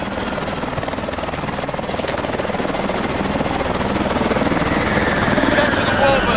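Warbird aircraft engine in Call of Duty: Advanced Warfare, a loud steady rotor-like thrum with a pulsing beat filling the whole stretch, with shouted voices over it.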